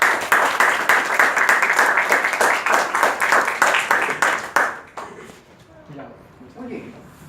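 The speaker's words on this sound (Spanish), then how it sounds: "Recibirlo con un fuerte aplauso, por ejemplo" A lecture audience applauds to welcome the instructor of a basic surgical techniques course, with dense, rhythmic group clapping for several seconds. The clapping fades out abruptly and quiet talk follows.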